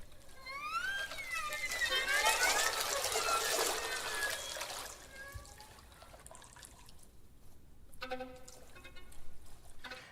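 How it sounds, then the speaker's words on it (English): AI-generated river water sounds trickle and drip in response to live improvising musicians, a soft, low-level watery texture that swells in the first half and then thins out, with sustained tones and a brief voice mixed in. "you can listen to how they're playing right now, and you will hear the water."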